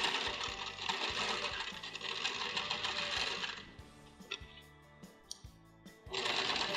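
A sewing machine stitches a duckbill fabric face mask with a loud, rapid mechanical hammering that runs steadily, pauses briefly for a few slower, uneven stitches over thick layers, then resumes at full speed.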